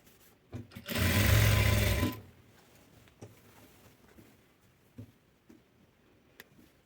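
Sewing machine stitching the side slit opening of a dress: one steady, loud mechanical whir lasting about a second, followed by faint handling clicks and taps of the fabric.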